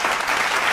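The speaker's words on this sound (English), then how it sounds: "Let me clap it up for that" Hands clapping close and loud, a dense brief burst of applause-like claps with no talk.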